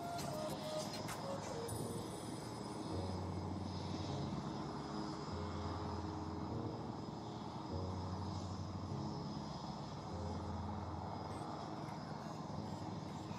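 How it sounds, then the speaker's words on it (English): A Netra airborne early warning aircraft flies past, giving a steady, fairly faint engine drone against a broad wash of noise, with no voices. "नेत्र आपकी नजरों के सामने उड़ान भर रहा है"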